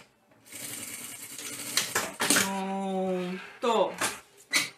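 Sewing machine stitching fabric while making a modern half-moon baby bottle holder, with short bursts of motor whir between pauses and handling noise, under a voice speaking nearby.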